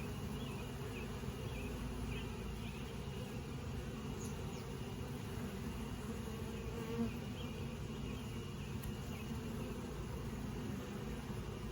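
Steady, continuous buzzing of honeybees at a sparsely populated hive, fairly quiet and constant, with a faint high electrical whine behind it and no voices.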